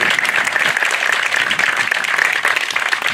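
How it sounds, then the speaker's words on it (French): Audience applause at the inauguration of a veterinary clinic in Isola, a sustained, dense round of clapping from a crowd close by, loud and even throughout. "On peut les applaudir aussi."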